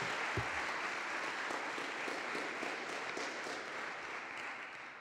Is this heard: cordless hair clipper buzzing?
no